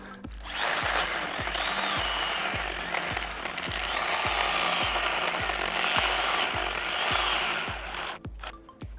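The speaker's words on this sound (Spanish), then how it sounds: "Aquí voy a cortar un pedazo que está un poquito grande. Como pueden ver, de madera grande." STIHL GTA26 cordless mini chainsaw cutting through a large piece of wood, giving a steady, close, buzzing saw whine with regular rhythmic pulses from the chain, running continuously for about seven seconds before stopping.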